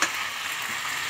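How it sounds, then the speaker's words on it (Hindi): Macaroni, chicken and cheese filling stirred in a pan, a steady close sizzle with soft scraping and no talk throughout. "ये हिला देते हैं बस इसको"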